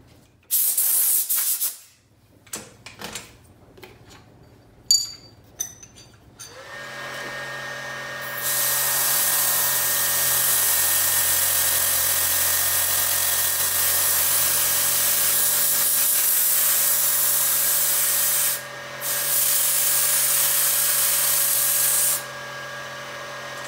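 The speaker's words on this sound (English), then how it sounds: "I hold the piece here, lock it down, and send the end mill through." End mill cutting a cast acrylic workpiece on a milling machine, heard as a steady loud machining hiss with a constant motor hum, after a few scattered clunks of setup, and two brief dips where the cut pauses.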